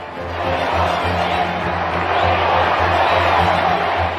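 A large crowd at the royal wedding of Prince Andrew and Sarah Ferguson cheers while awaiting the kiss, a dense, steady roar of many voices that sounds distant and continuous throughout.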